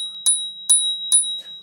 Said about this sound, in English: you can see they continue to include a bell.